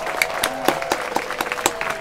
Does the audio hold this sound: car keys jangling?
no